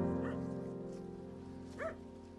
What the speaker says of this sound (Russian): Хорошая охотничья лайка – это самый надежный помощник и друг, без которого охотник никогда не уходит в лес